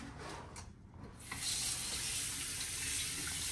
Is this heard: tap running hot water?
yes